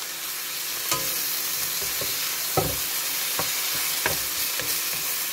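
Mushrooms sizzle in a pan alongside oxtail and shrimp fricassee, a steady frying hiss broken by several sharp utensil scrapes and clinks as they are stirred back in.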